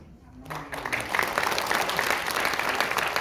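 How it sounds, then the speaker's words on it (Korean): Audience at a Korean YouTuber association founding meeting breaks into applause, starting after a brief voice and building to steady, dense clapping from a crowd indoors. "여러분 감사의 박수를 보내주시기 바랍니다"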